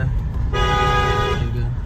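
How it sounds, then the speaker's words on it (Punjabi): A car horn sounds once on a road during a driving lesson, a loud steady tone held for just under a second over engine and road noise. "ਹਾਰਨ ਮਾਰ ਲਓ"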